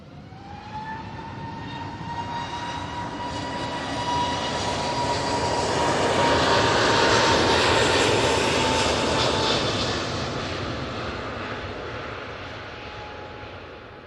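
An SAS airliner takes off from Manchester Airport for Oslo, its jet roar with a whining engine tone swelling to a peak midway and then slowly fading as it climbs away.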